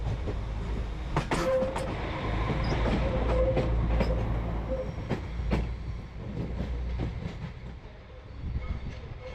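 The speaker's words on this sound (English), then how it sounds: "The new West Midlands Class 196s provide the service to Birmingham" A West Midlands Class 196 train runs on rails near Shrewsbury, with a steady heavy low rumble, rhythmic wheel clicks and a faint squeal, loud and close throughout with no talk.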